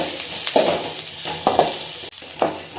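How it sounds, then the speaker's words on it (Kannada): Onions frying in a pan while being cooked with garlic, dried chillies and cumin: steady close sizzle throughout, broken by three scraping stirs about a second apart, no voices. "ಈರುಳ್ಳಿ ಸ್ವಲ್ಪ ಫ್ರೈ ಆಗಬೇಕಿದು ಫ್ರೈ ಆಗೋ ತನಕ ಉರಿಯೋಣ"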